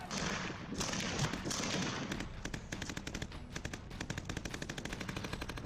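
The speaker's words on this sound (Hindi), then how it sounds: "तड़तड़ाती हुई बंदूकों से छिटकती गोलियां," Rapid bursts of automatic gunfire, loud and sustained, with dense rattling volleys at first, then sharper separated shots continuing in quick rhythm.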